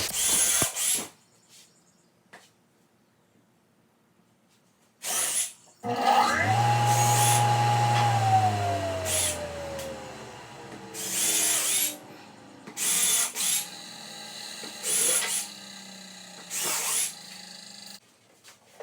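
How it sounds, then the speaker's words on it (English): A power drill with a Forstner bit whirs in short bursts, one longer run winding down in pitch as the bit bores through pre-drilled holes in a wooden workbench, with quiet pauses between. "pre-drilled all of the holes so that my Forstner bit would have a guide to follow"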